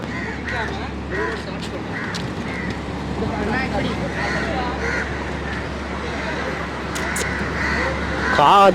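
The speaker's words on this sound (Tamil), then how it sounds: "காக்கை இது" Crows caw repeatedly in the background amid outdoor street ambience and people talking on a road in Colombo, Sri Lanka, with harsh calls scattered throughout and louder near the end.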